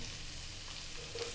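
Ginger and garlic, a tablespoon of each, hiss quietly as they hit a pan, a short, soft, even sizzle with no talking.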